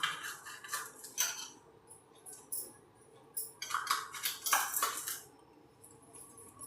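A spoon clinks and scrapes against a cooking pot as coarse salt is stirred into a rainy-season snack. The metallic taps come in two short clusters, close and fairly quiet, with no talking.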